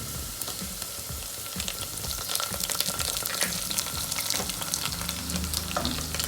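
Garlic sautéing with softened onions in a pan for arisi paruppu sadham, rice with lentils, giving a dense, continuous sizzle with crackling bursts and the scrape of stirring throughout, close and fairly loud.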